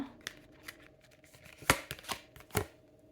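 Tarot cards shuffled and shifted on a table during a reading, giving a few soft, separate riffling and slapping bursts over a quiet background with no talking.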